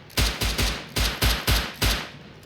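Rapid bursts of gunfire from the video game Rust, about six sharp loud shots in uneven quick succession, close and alone.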